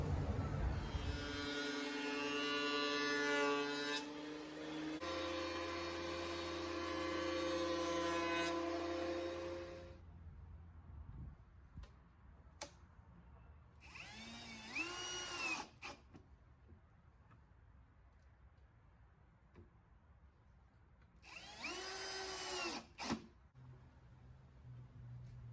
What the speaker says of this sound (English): So that's why I've got the table saw, I might as well use it and make short work of these